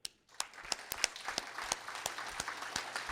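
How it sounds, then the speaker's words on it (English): A conference audience applauds, with sharp individual claps in a steady, moderately loud patter after a brief quiet start, carrying on without talk. "let me have a round of applause for you of this"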